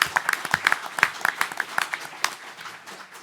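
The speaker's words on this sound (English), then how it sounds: "So I think we can applaud and thank Madhur very much." A conference audience applauds after a session talk, a quick patter of many hands clapping nearby that tapers off toward the end, with no voices over it.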